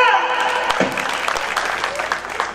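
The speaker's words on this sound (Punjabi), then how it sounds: "ਦੱਬ ਕੇ ਤਾੜੀ ਮਾਰੋ ਜਨਾ।" Audience applause at a live devotional gathering, a dense steady wash of clapping that holds for the whole stretch, with a voice briefly sounding over it at the start.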